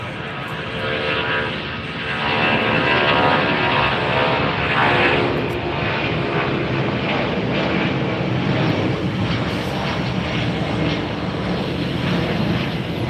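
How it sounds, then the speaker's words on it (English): A Delta Boeing 757 airliner takes off from runway 1 right at Tampa airport, its engines a loud, steady, broadband roar that swells after a couple of seconds and holds strong throughout, with no talk over it. "runway 1 right, let's take off. Take off 1 right, Delta 1720. Cleared for takeoff now."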